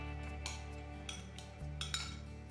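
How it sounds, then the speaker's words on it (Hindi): A spoon clinks against a bowl while peanut chaat is mixed with a little lemon juice and olive oil, giving several light scraping and tapping strikes close by over a steady low background hum. "लास्ट में थोड़ा सा लेमन जूस और ऑलिव ऑयल ऐड करके अच्छे से मिक्स कर रही हूँ।"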